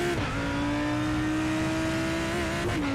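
Simulated Lamborghini GT3 race car engine in a racing simulator at Barcelona, a steady high-pitched drone that holds constant, then dips and rises briefly as gears shift near the end, loud and continuous with no talk.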